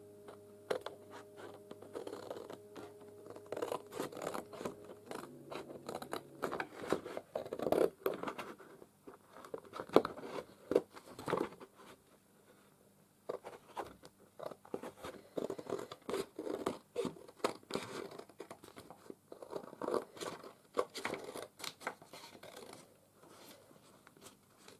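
Paper or card being snipped and trimmed with scissors while making a craft back cover, a long run of close, dry crunching cuts and rustles in uneven bursts, with no voices.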